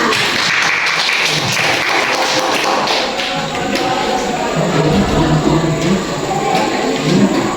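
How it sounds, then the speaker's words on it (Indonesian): A room of people claps in dense, uneven applause, loud and continuous throughout, with some thumps mixed in. "Kasih tepuk tangannya."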